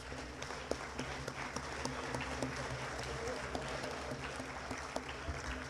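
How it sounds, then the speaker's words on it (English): A crowd at a school football assembly applauds the players: a distant, fairly quiet wash of clapping with scattered sharper claps and some crowd murmur mixed in. "Give those guys a round of applause."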